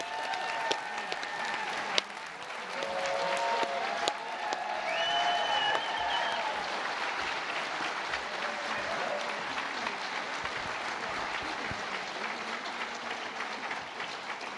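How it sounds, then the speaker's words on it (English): Audience applause fills a hall at a West Virginia Music Hall of Fame induction ceremony, sustained clapping from a large crowd at moderate distance, with a few brief cheers and tonal sounds early on, and no speech. "Please join me in giving a round of applause"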